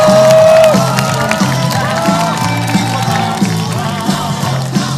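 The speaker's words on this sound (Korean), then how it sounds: "큰 박수로 맞이해 주십시오" A crowd at an outdoor 2017 presidential campaign rally in Uijeongbu cheers and claps to welcome a politician, a loud, dense roar with whoops over a steady rhythmic drum-like beat and amplified voices.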